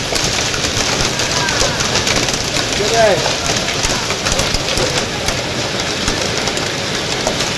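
A bird calls briefly amid steady heavy rain with hail, striking a rooftop terrace and broadband noise, partly buried in the wash of water.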